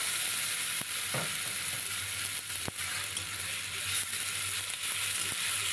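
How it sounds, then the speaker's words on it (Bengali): Soybean chunks coated in spice paste fry in a pan with a steady broad sizzle, while a spatula stirs and scrapes now and then; no one speaks. "এবার আরেকটু কষিয়ে নেব"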